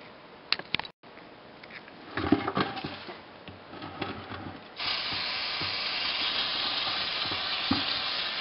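Brake cleaner sprayed onto a Ford Super Duty rear driveshaft and its splines, a few short clicks and hisses followed by a steady aerosol hiss in the last half, fairly quiet and close.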